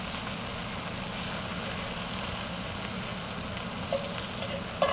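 Two eggs frying in a Lodge cast iron skillet give a steady, dense sizzle that holds at an even level throughout, with a faint click near the end and no voices.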